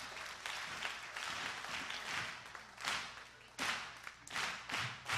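Applause breaks out at a church service in honour of Jesus, a broad, fairly steady clatter of many hands that swells in several bursts toward the end, with a voice faintly mixed in.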